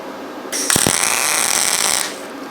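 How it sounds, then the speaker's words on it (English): MIG welding aluminum with a YesWelder Mig-205DS-B welder, a loud steady crackling hiss lasting about a second and a half, with a sharp pop near the start of the arc. "we're going to try to do some welding and see what happens"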